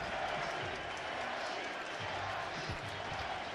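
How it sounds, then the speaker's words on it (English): A baseball crowd at a 2023 NLDS Game 3 between the Dodgers and Diamondbacks chants a player's name, heard as a steady, loud, dense roar of many voices with no breaks. "You can hear the crowd chanting Gabby."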